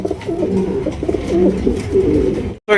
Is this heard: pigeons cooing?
yes